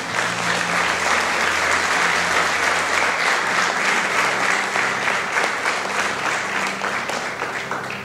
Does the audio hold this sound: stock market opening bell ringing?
no